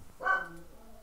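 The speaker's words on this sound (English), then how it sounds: "Sorry if you hear my dog barking in the background." A dog barks once in the background, a short, fairly close bark with a fading tail.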